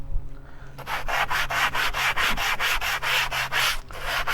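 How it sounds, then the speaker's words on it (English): A scuff pad rubs flaky paint on a Chevy Tahoe rear bumper step in steady, loud back-and-forth strokes, about a dozen rhythmic scrapes close up with no talking. "So you want to go ahead and get your scuff pad if you got a little flaking in your paint."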